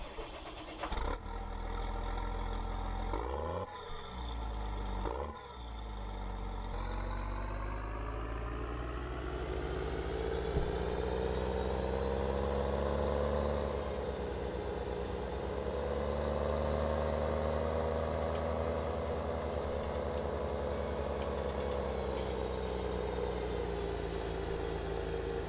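In Farming Simulator 19 a tractor engine starts up and then runs steadily, a deep droning hum that rises slightly in pitch as it revs, close and continuous without talk.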